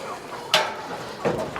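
A hen shut inside a farm's wooden nesting box gives two short, sharp clucks about a second apart, close by and moderately loud, with no talking heard.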